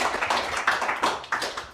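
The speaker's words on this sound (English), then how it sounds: "Round of applause for Tony Fawl." A small conference audience gives brief, scattered applause for a speaker, with a handful of hands clapping unevenly at close range for under two seconds.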